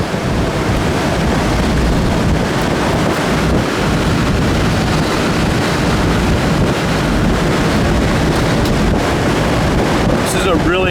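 A 1964 Chevelle SS convertible cruises down the road at highway speed, its steady engine drone buried under constant loud wind buffeting and road roar, with no break throughout.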